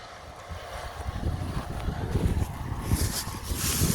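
Steady wind buffeting the microphone outdoors in a hay field, a continuous gusty rumble with rushing noise, no voices.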